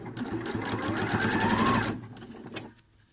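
A domestic sewing machine runs a fast, even burst of stitches through shirt fabric for about two seconds, then stops, followed by a few faint clicks; nearby and fairly loud, with no talk.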